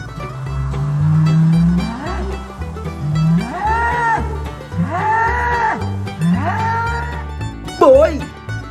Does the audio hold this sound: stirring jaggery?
no